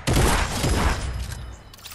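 A burst of gunfire in the video game Fortnite, a loud, dense barrage of shots and impacts that quickly tails off.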